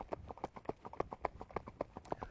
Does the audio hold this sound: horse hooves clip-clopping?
yes